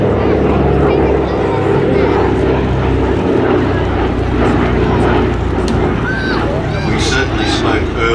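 A loud, steady drone of a Douglas DC-3 (C-47 Dakota) piston-engine aircraft at an air festival, rumbling continuously with a throaty low roar throughout, with faint voices mixed underneath.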